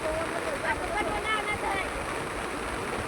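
Floodwater from a rain-swollen river pours past in a continuous dense rush, with faint voice-like tones drifting over the steady roar.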